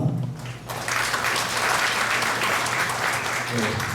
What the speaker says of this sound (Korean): 좋은 강의를 박수로 진행드리겠습니다